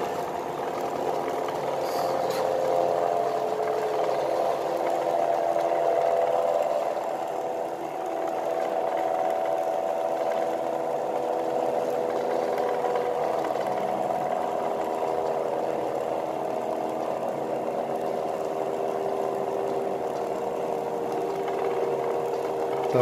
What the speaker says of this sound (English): Here I am going to test the speed of the motor.